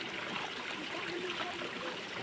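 Flowing stream water in the countryside, used for washing laundry, gives a steady, dense rushing and trickling wash throughout, close and continuous with no voices.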